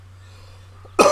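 A single sharp cough bursts out near the end after a stretch of quiet room hum, loud and close, from a Fallout 76 player at the microphone.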